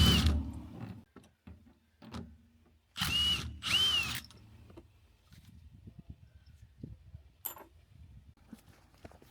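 Power tool whizzing off trim bolts on a VW Golf GTI during restoration, two loud close bursts of whirring with ratcheting clicks, followed by quieter handling noises.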